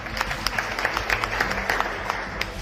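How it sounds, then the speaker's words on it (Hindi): An audience at a business presentation gives a short round of applause, with individual claps popping through the crowd's clapping for a couple of seconds. "जोरदार तालियां"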